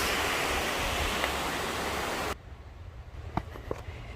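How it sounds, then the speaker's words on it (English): Turner Falls waterfall in Davis, Oklahoma roars as a dense, steady rush of water, heard close up at first, then dropping abruptly to a softer, more distant wash with a few small knocks and movement sounds. "the beautiful area here at the WATERFalls"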